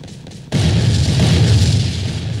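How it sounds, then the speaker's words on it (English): Cannonballs crash in the Bond Cannonball Bingo video game, a sudden loud boom after a brief quieter lead-in that swells into a sustained, dense rumbling roar of impacts. "So we've got cannonballs going everywhere."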